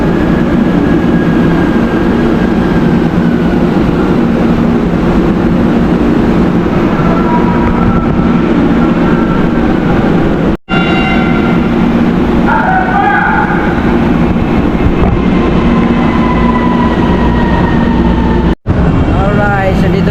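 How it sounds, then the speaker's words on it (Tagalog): A steady low rumble of an MRT train at a station in Pasay, with a continuous mechanical drone and a few higher tones rising over it. "so dito na tayo sa MRT"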